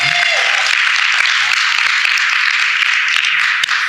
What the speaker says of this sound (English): let's give a nice round of applause to Alton Voss